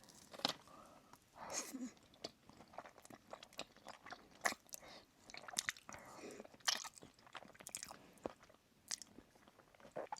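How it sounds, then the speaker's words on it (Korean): Raw salmon dipped in chojang sauce chewed close to the mic, soft wet bites and squishy mastication in uneven bursts with small crunchy clicks and breaths between them, and no talking. "연어 소스별로 한번 먹어볼게요. 일단 첫 번째로 초장."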